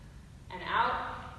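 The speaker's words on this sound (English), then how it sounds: "I want to take a deep breath in" One close, deep inhale of breath starts abruptly and swells to a soft, airy rush before easing off, heard alone in a quiet room during a pregnancy deadlift exercise.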